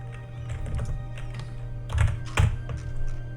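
Computer keys clack in irregular clusters, quiet taps with a few louder thunks, over a steady low hum.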